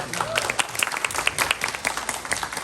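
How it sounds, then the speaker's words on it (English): Audience applause at a second-grade spring school performance, steady clapping from a crowd filling the whole moment, fairly loud and sustained. "Let's give her a round of applause."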